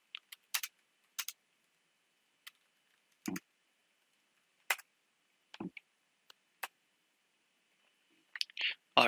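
Sparse, crisp keystrokes on a computer keyboard, typed in small bursts separated by long quiet gaps, close and clear in an otherwise silent room.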